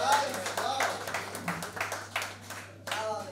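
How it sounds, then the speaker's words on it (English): A reality-show audience clapping in short, uneven bursts of many hands, fairly close and moderately loud, with a voice speaking over the start. "Please clap for sir."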